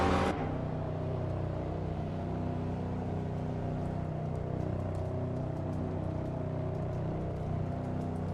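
Porsche 968 Turbo R engine in a racing game, a steady droning hum at constant pitch after a short opening burst, heard close and continuous without talk.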